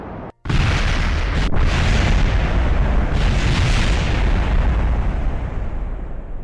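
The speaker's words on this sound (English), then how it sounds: "we're kind of going to explode" A rocket in Kerbal Space Program slamming into the edge of a crater and blowing up, heard as a sudden loud blast after a brief dropout, then a long, dense roaring rumble that fades slowly with no talk.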